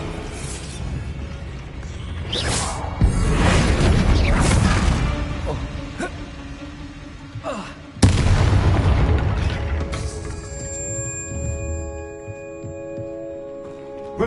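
Booming explosion spell blasts in the video game Hogwarts Legacy, two loud bursts a few seconds apart followed by rumbling combat effects and chiming tones, with a voice speaking over the fight.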